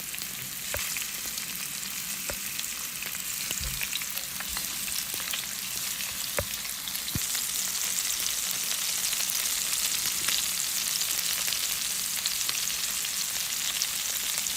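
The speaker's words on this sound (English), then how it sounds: "let's start adding the salmon here, guys. Just gonna get a nice sear on these." Salmon searing in a hot pot for a salmon pasta, giving a steady, dense sizzle with occasional pops and utensil knocks. The sizzle grows louder partway through and carries on with no talking.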